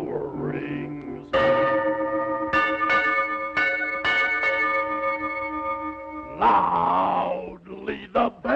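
Several deep, resonant church bell strikes from an old tower ring out one after another with long humming decays, framed by bursts of vocal sound before and after.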